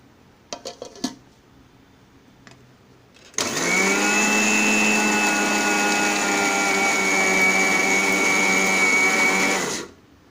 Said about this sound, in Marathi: आता लसणीच्या पाकळ्या घालत आहे आणि आता बारीक करून घेणार आहे मिक्सरमधून